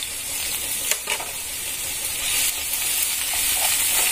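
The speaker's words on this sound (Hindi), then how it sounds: "पहले हम इसमें ग्रेटेड लहसुन डाल देंगे और साथ में ग्रीन चिली भी" Grated garlic and green chili sizzle in a pan over a medium flame, giving a steady hiss with a few soft stirring clinks, close and with no talk.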